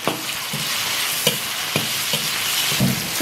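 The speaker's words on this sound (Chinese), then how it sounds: "锅里倒点油，加入葱姜、干辣椒、花椒，1块火锅底料" Scallion, ginger, dried chili and Sichuan pepper stir-fried in hot oil in a wok, a steady close sizzle broken by repeated scraping stirs of a spatula, loud and alone without talk.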